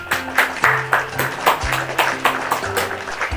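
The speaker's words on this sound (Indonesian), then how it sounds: "Silakan tepuk tangan dulu untuk kita semua." Students in a classroom clap together, a rhythmic series of fairly loud claps over a short stretch, with a steady low musical tone underneath.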